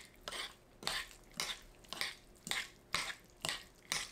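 Seasoning of minced garlic, anchovy fish sauce, fine salt, green onion and chili being mixed with a spoon in a bowl for an onion perilla side dish, about eight evenly spaced scraping, clinking strokes, close and quiet.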